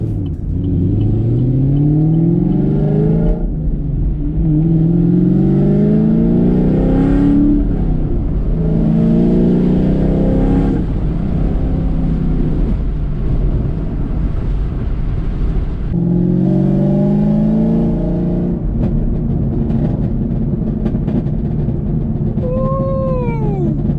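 Camaro fitted with a ram air intake cruising and accelerating, engine revs rising in several repeated pulls with gear changes, a loud, steady rumble heard from inside the car.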